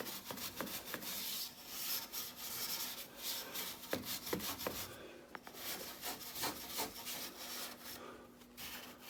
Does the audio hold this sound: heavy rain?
no